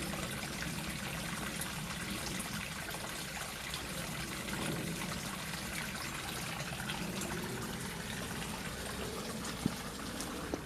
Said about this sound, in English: you can hear all the water here, look, escaping